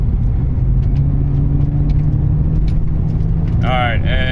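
An Acura CL car cruises along a road, its engine a steady mid-pitched drone with a low rumble and tire noise throughout, loud and close; a brief chirpy sound surfaces near the end.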